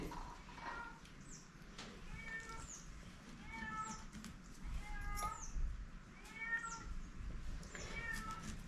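A cat meows repeatedly in short, plaintive calls, fairly close, over a low background rumble with no talking, while small fish are cut nearby.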